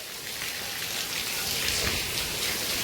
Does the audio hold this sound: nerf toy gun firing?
no